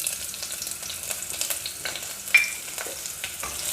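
Finely chopped small onions frying in about two spoons of hot oil in a pan on the stove, giving a soft continuous sizzle with light stirring scrapes and one brief sharp clink, no voices.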